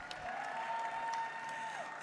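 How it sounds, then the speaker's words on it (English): Audience applause at a Black Caucus gathering, a brief stretch of clapping from a crowd at moderate distance, fairly soft with a steady tone running through it. "can we give our sister Virgie a round of love and applause?"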